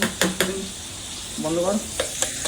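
Food fries and is stirred in a pan during home cooking, giving a soft, steady sizzle with occasional scraping stirs, while someone talks over it.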